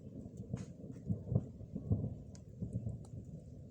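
Distant thunder from an approaching storm in an outdoor rural setting, low rumbling swells rolling through the quiet with faint crackles on top and no speech.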